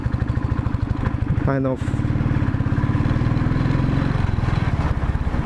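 Modified Royal Enfield Thunderbird motorcycle with a rattly build idles close by, a loud steady thumping single-cylinder beat with metallic rattle throughout, while someone talks over it.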